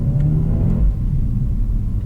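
A Mercedes-AMG A35 engine fires up nearby, a loud low rumble swelling into a brief rev before settling, with no voices over it.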